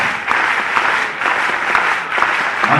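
A crowd at a public youth event in Bhopal applauds to welcome the chief minister, a continuous loud wash of clapping that stays dense and even throughout.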